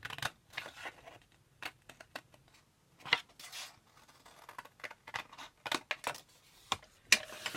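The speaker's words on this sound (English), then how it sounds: "couldn't you find bigger scissors, love?" Small scissors snip paper in quick, irregular bursts of crisp little cuts, close up, with short pauses between the snips and no speech.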